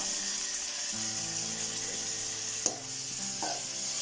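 Tomatoes stirred and frying in a pan in a home kitchen, a continuous close sizzle with soft scraping of a spoon and one sharp clack against the pan.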